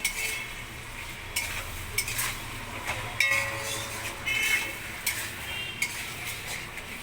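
Spice paste being stirred in a pan for a prawn and Malabar spinach curry, a steady sizzling hiss with repeated scraping and clinking of a utensil against the metal, close and continuous with no talk.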